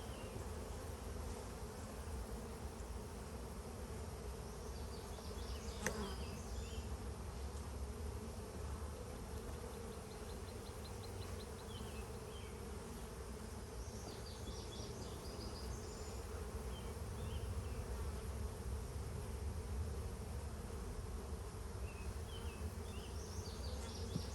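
Honeybees buzz around a hive comb frame, a constant layered droning hum close to the microphone, with an occasional faint click or tap from handling the frame.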